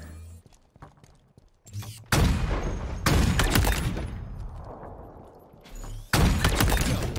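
A sniper rifle fires in a Halo Infinite match: three loud, sharp cracks come a second or more apart, each followed by a rumbling echo, with quiet stretches between them.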